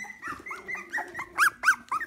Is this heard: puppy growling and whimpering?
yes